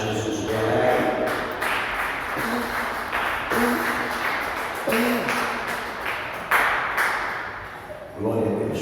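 Evangelical church congregation giving a round of applause during a Sunday worship service, clapping in uneven bursts mixed with hall reverberation, sharp thuds and a voice speaking over it.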